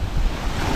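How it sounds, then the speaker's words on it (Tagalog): Large ocean surf roars in a steady, dense wash, loud and close, with wind buffeting the microphone and no voices. "Ang lalaki ng alon."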